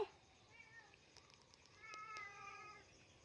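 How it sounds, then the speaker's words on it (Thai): A cat meows loudly in a few rising, stretched calls, close by, with a quiet background and no talking. "เหมียวร้องเสียงดังมากเลยเหมียว"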